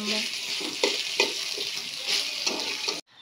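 Ginger and garlic paste with chicken sizzles and fries in a pan, stirred with a few soft scraping strokes, steady and close, before cutting off abruptly.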